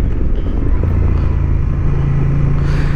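A 2023 Honda XL750 Transalp motorcycle accelerating in fourth gear from about 4000 RPM on a racing track, producing a steady, loud, close engine drone with low rumble and heavy wind noise throughout.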